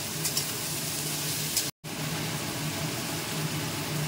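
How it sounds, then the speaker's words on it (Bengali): Onions fry lightly in a pan, giving a steady, loud, even sizzle that continues throughout apart from a momentary dropout. "আর পেঁয়াজটা কিন্তু খুব বেশি ভাজাও হবে না"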